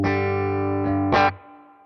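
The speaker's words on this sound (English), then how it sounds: "And then if I engage the doubler with the current time of 6 milliseconds, it sounds like this." Distorted electric guitar through the Morgan Amps Suite plugin with its doubler set to 6 milliseconds, a sustained chord fading slowly, then a brief bright strummed accent near the end before a quick drop-off, alone and loud.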